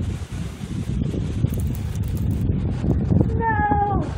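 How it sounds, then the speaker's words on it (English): Wind gusting outdoors on a cold snowy day, a rough rumbling buffet against the microphone throughout, with a high wavering squeal near the end. "Here comes the wind. Listen to the wind."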